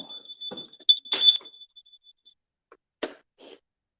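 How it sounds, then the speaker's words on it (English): A smoke alarm beeps in a steady high-pitched tone that fades away, mixed with a few nearby coughs or sneezes, then silence broken by a brief short chirp. "Goddamn alarm is going on."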